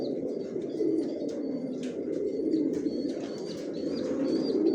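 Pigeons coo steadily in a newly built breeding loft housing Johnson-line birds, a dense continuous murmur of overlapping low coos with occasional higher chirps above it.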